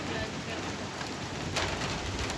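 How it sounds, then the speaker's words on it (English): Heavy rain pours down steadily during a severe thunderstorm with possible small hail, a dense, close, continuous hiss that swells slightly toward the end. "Oh, I think that's hail, it sounds like."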